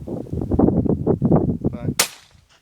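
A shotgun fires at a clay target during family shooting practice. A person talks first, then a single sharp, loud report cuts in and decays quickly.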